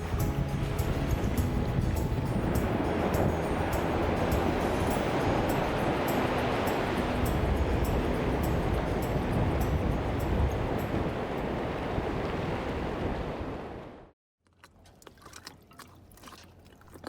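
Atlantic Ocean surf rolls and crashes steadily with wind noise, a loud continuous wash that cuts off abruptly near the end and leaves faint, quieter sea sound.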